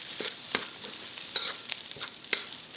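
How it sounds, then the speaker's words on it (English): Rice sizzling and scraping in a hot wok as it is pressed and tossed, with repeated soft clatters of a utensil over a constant hiss. "Pressing and tossing to separate the grains"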